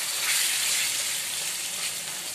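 Tomatoes and other ingredients sizzle steadily in a pan, a close, even hiss of frying with faint bubbling and no voices.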